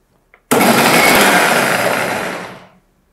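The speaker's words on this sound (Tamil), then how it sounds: "இது மூடி அரைக்க வேண்டியதான்" A mixer grinder blends cooled cooked masala for paneer butter masala, starting abruptly with a loud, harsh whirring roar close by that runs about two seconds and then winds down, with a faint tap just before it.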